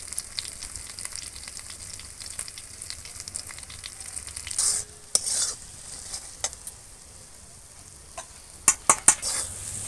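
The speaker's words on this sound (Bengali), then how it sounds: "মশলাটা একটু ভালো করে কষিয়ে নেবো" Spice masala of chili, cumin and turmeric powder with salt being stir-fried for a jackfruit prawn curry, a constant soft sizzle under a few sharper scrapes and clinks of the spoon near the end.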